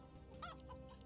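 Chicken courier in Dota 2 giving a brief, faint cluck, a single short fowl-like call over a low game background hum.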